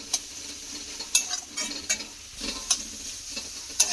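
Potato, capsicum and carrot fry in a pan with a gentle continuous sizzle, broken by several sharp spatula clinks and scrapes at irregular intervals, with no talking.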